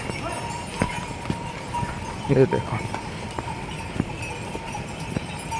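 Horses' hooves clip-clop along the muddy Kedarnath trekking route, a series of scattered knocks at a moderate distance beneath someone talking.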